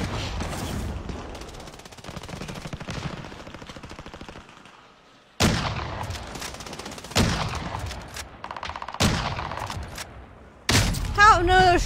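In the Alcatraz video game, gunfire crackles in rapid automatic bursts, several loud volleys separated by short pauses and close to the listener.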